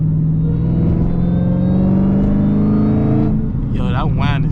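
A Dodge Challenger Hellcat's supercharged engine drones loud and close from inside the cabin, a steady rising whine over the rumble before the revs fall away and people start talking.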